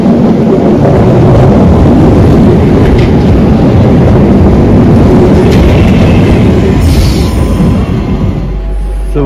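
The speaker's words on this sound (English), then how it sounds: "So we're on the train now" A passenger train on the Cross City Line between Barnt Green and Redditch rolls along the track, heard from onboard as a loud, steady rumble and rattle that holds throughout, with no talking.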